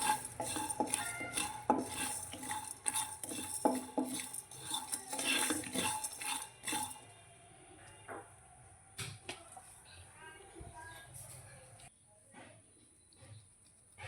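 Repeated scraping and clinking of a spoon stirring spices roasting dry in a pan, busy at first then thinning to sparse taps, with faint sizzling and no voices.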